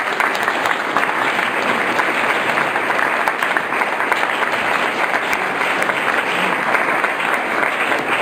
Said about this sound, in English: let's give another round of applause here